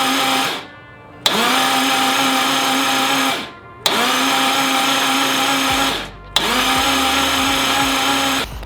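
Subaru EG33 flat-six engine swapped into an STI, cranked over on the starter to build oil pressure: three long steady whirring cranking bursts, each starting abruptly and cutting off after a couple of seconds, loud and close, with no talk.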